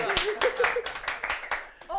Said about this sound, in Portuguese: Palmas pra você!